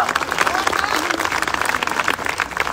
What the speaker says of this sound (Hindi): मैं चाहूंगा इन सभी गुरुओं के लिए एक जोरदार तालियां।